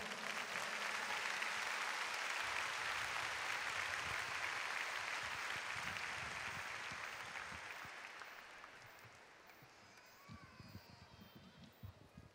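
A large congregation at a bilingual Honduran church service claps for the Lord, loud sustained applause that gradually fades over about eight seconds, leaving scattered claps and shuffling.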